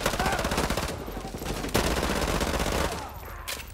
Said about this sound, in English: this is the mini Uzi from Modern Warfare 2